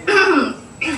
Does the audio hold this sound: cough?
yes